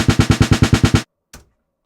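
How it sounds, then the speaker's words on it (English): Unprocessed snare drum hits used as a layer for a gunshot sound fire in a rapid, evenly spaced burst of about ten loud, close cracks, then silence and one softer hit. "So the snare drum layer sounds like this without any processing."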